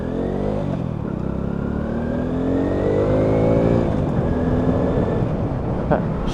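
A black Lexmoto Riot 125cc motorcycle engine revs and pulls away on a ride test, its pitch rising and falling through gear changes, loud and steady close by with some wind rush.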